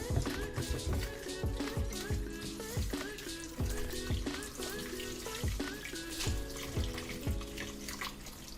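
Tap water runs steadily into a bowl while goat or lamb trotters are washed, with repeated splashing and sloshing as the pieces are handled, close and continuous without speech.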